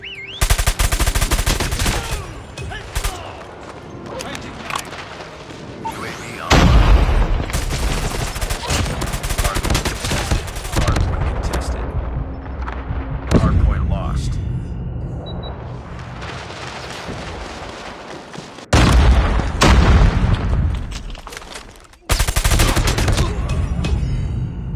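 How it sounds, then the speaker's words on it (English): Explosions from an incoming enemy airstrike mixed with rapid automatic gunfire in a Call of Duty Mobile Hardpoint match, loud and dense bursts of shots and booms continuing throughout with brief lulls. "Enemy airstrike incoming."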